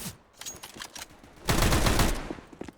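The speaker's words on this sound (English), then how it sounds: "He's using the range of the rifle to his advantage." Rifle gunfire in Counter-Strike on the map Nuke during a tournament match: a few scattered shots, then a loud, dense burst of rapid fire lasting about half a second.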